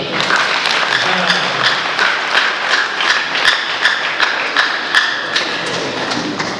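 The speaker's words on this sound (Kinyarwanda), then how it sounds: "Reka twongerere Imana amashyi." Wedding guests applaud during a church marriage vow ceremony, a steady wash of clapping with scattered sharper claps and soft thumps running through the whole stretch, fairly close and full, with faint murmuring voices underneath.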